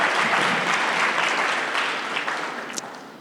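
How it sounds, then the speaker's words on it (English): Applause for the female judiciary nominees rings out from an audience, a dense, steady round of clapping that slowly fades over a few seconds with no talking. "You can give them a round of applause."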